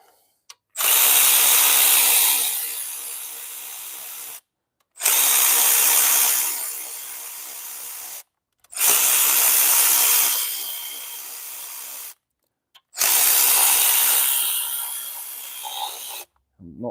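A power tool undoes the rocker cover bolts on a Ford Focus EcoBoost engine in four loud, sustained bursts of roughly three seconds each, separated by brief silences, close and alone.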